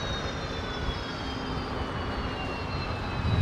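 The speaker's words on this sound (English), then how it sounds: "That sounds like a Fokker shutting down." Engines of a Fokker airliner at an airport wind down in a steady roar with a faint falling whine, heard from a distance.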